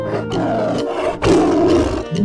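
A tiger roars loudly and close, a sustained growling roar with a brief break and a second surge, alone with no talk, set among cartoon animal calls.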